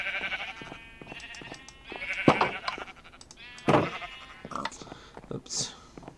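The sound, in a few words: sheep bleating in a video game (Minecraft-style farm)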